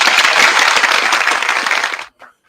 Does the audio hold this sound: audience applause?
yes